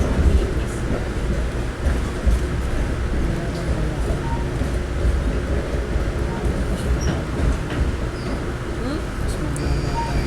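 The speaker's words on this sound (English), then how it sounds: "Off to the left side of the train, we were passed by a westbound Keystone service train operating past us the other way." A westbound Amtrak Keystone service train rushes past in the other direction, heard from aboard a moving train as a loud continuous rumble and roar of wheels on track.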